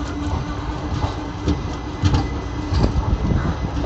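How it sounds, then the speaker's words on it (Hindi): Bju Gondia Express, train no. 15231, pulling out of Shahdol station, a steady rumbling roll with irregular wheel clacks and rattles building slightly toward the end. "शहडोल स्टेशन से अपना डिपार्चर होता हुआ"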